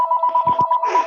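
A telephone rings during a live sports watch party, sounding as a close, loud electronic trill with a fast pulsing rhythm and brief background noise.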